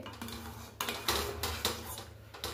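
Sugar being stirred into rice kheer in a pot: a spoon scrapes and clinks against the metal in an uneven rhythm, close and fairly quiet, over a low background hum.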